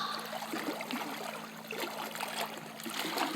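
Steady outdoor water trickling and flowing, a continuous broadband wash of stream sound at moderate level with no voices, a faint low hum running underneath.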